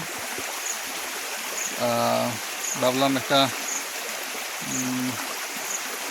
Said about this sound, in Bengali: পানির শব্দটার কথা শুনছেন এসে পানি ছড়া